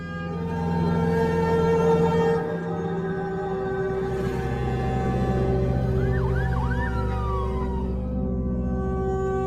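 An ambulance siren in a film wails in sustained, sweeping tones under a low rumble of music, loud and close, with a brief warbling flourish near the end.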